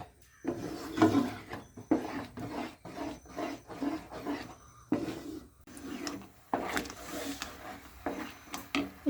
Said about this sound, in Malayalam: ഇത് നമ്മൾ ഇളക്കിക്കൊണ്ടിരിക്കണം, കൈ എടുക്കാതെ ഇളക്കണം